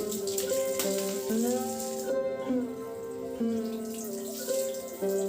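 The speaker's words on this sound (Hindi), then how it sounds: "तो अच्छी तरह से नल के नीचे इस तरह से झाड़ू को धो लेना है।" A broom rinsed under a running water tap, a steady close rush of water with shifting tones as the bristles move through the stream.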